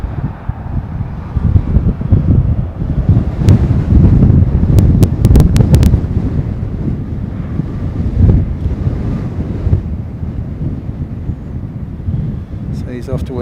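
Strong wind buffets an outdoor microphone at an aircraft-viewing mound on Harewood Road, a loud, continuous roaring rumble with gusts throughout, and a voice talks underneath it.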